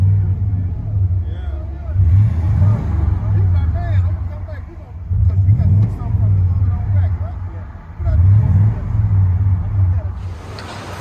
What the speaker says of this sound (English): Chevy Silverado 1500 with a MAGNAFLOW. Let you guys hear on the inside.